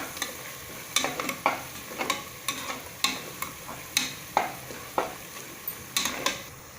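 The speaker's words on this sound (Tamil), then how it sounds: "எண்ணெய் திரிஞ்சு நல்லா மேலே வர வரைக்கும் நல்லா வணங்கணும்." Masala is sautéed in oil for kuska. A spatula scrapes the pan in regular strokes about once a second over a soft background sizzle, fairly quiet and close.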